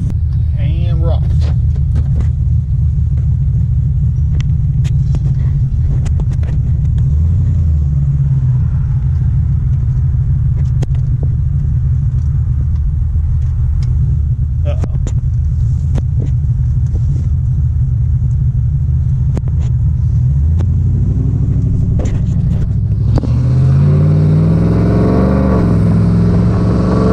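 A car fitted with a factory electric cooling fan conversion pulls away and drives on, its engine a steady low rumble throughout that builds as it accelerates near the end, with occasional speech over the top.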